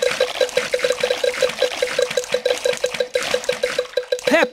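Cartoon pigs splash in a swimming pool in the Peppa Pig video game, rhythmic watery splashes and trickles over light game music tones, ending with a short rising sound effect.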